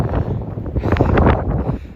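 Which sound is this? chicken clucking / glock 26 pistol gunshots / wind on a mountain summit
wind on a mountain summit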